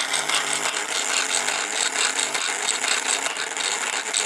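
A 1952 American Flyer model train locomotive runs on 12 volts with a steady, dense mechanical whir and fine ratcheting gear chatter, continuous and close throughout.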